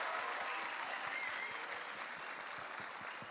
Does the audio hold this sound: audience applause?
yes